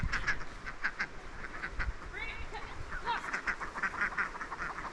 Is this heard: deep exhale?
no